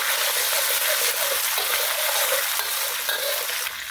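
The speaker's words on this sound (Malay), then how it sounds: "Kita tumis dulu kisar kita ni" Three tablespoons of ground chili paste sautéing in a frying pan, a steady loud hiss and crackle that holds evenly throughout, with no talking.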